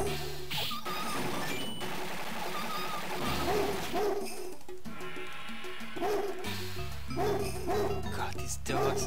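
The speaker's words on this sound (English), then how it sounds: "God, these dogs." Dogs bark repeatedly in the arcade run-and-gun game Metal Slug X, over loud chiptune music and gunfire.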